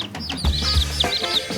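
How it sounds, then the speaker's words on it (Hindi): Baby chicks give high, thin chirps in quick repeated peeps close by, with a lower clucking-like sound underneath across the short clip. "ये प्यारे चूजे हैं,"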